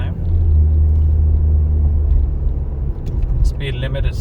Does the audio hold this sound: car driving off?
yes